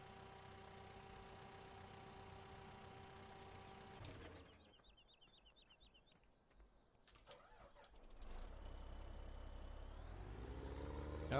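A tractor engine idles in Farming Simulator 17, a low steady hum that fades briefly midway, then returns louder and rumbling at the end, with no talk.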